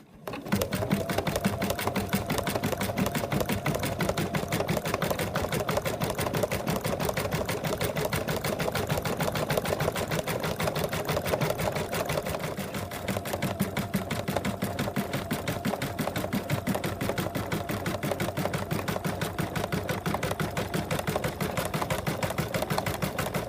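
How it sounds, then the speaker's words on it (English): A sewing machine works a satin stitch around an appliqué muzzle on a cat design, producing a long, steady stream of rapid, evenly spaced needle clicks over a constant motor hum. "now we're gonna do a satin stitch around it"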